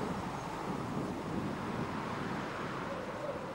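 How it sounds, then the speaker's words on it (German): Strong wind blowing across open country in southern Australia, a dense continuous roar buffeting the microphone at steady loudness for the whole stretch, with no voices. "Australien ist ein Windland. Ständig und meistens kräftig bläst er über den Kontinent."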